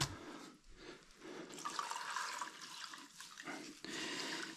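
Water running and gurgling through a newly installed sink drain pipe under a faucet, a broad splashing rush with uneven surges and brief dips, fairly close and continuous for several seconds.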